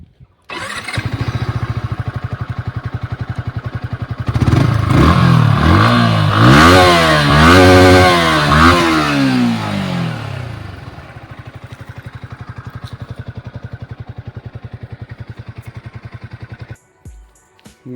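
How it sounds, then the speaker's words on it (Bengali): A matte black Yamaha R15 motorcycle idles with a rapid, even exhaust putter, then revs hard several times in rising and falling surges before settling back to a steady idle and cutting off; close and loud, no talking. "একবার আমরা ইঞ্জিনের সাউন্ডটা শুনে নেব,"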